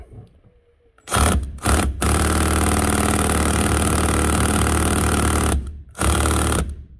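An air impact gun hammers at a T50 Torx bolt on a 2002 Citroen Berlingo, firing in a few short bursts and then one long rattling run, loud and close, without breaking it free.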